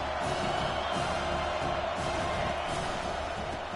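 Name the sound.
football stadium crowd noise in video game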